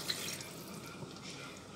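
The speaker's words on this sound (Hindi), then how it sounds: "1 गिलास पानी का डाला है," A glass of water poured into a cooking pot of potatoes and chickpeas, a short, soft, continuous splash of liquid lasting under two seconds.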